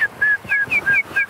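A few short, clear whistled notes repeat in a quick irregular run, close by, over soft rumbling background noise.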